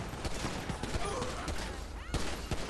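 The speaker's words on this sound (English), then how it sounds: "Perfect shooting, didn't miss a single shot" Rapid bursts of gunfire in the video game GTA V crack out in dense volleys, some shots overlapping, loud and continuous across the moment with no one talking.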